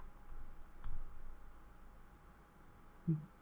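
A few isolated computer keyboard clicks sound faintly in a quiet room while a file is typed and saved, with one louder key tap near the end.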